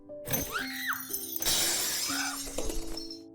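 A chandelier and a vase shatter as a panicked bird flaps around a living room, giving crashing bursts of breaking glass and ringing fragments amid dramatic background music and swooping effects.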